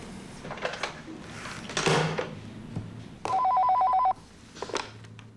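A telephone rings once with a bright, steady electronic trill in a veterinary clinic, preceded by soft shuffling and thumps of movement nearby.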